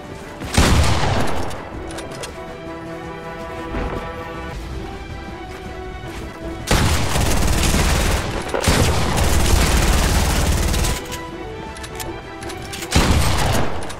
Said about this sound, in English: Bro, there's gunshots everywhere.